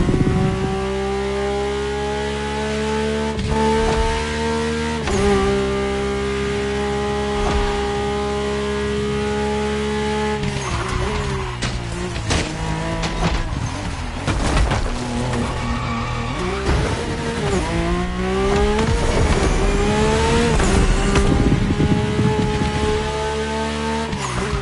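A Mercedes-AMG One hypercar in The Crew Motorfest, its engine holding a loud, steady high-pitched drone, then revving up and down through gear changes with bursts of tire squeal, close and continuous.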